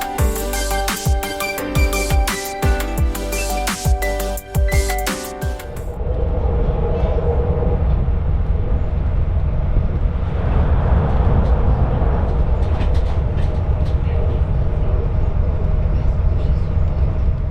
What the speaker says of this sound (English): we can listen to the sound of the train crossing the Aller Bridge